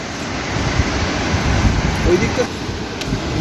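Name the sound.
river water flowing at Bhimkund Falls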